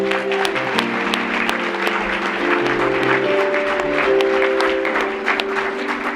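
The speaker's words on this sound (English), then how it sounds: "So please, a big round of applause for Julia." Audience applause at a comedy night program, a steady wash of many hands clapping throughout, with sustained musical tones running underneath.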